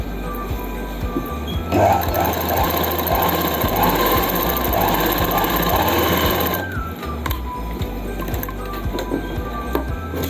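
A sewing machine runs in one long steady burst, stitching right along the edge of a folded palazzo pant waistband, close and loud, with quieter machine noise and handling before and after.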